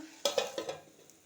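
A metal lid set onto a cooking pot on the stove, a few quick clinks and taps close by, then fading quiet.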